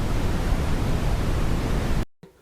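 Simulated roaring tinnitus noise: a dense, loud, rushing wall of broadband hiss lasting about two seconds, then cutting off abruptly into near silence.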